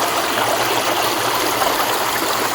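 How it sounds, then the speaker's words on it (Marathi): A small mountain stream on a trek gurgles and trickles in a close, continuous, even wash of water sound, with no voices. "आणि हा पाण्याचा खळखळणारा आवाज"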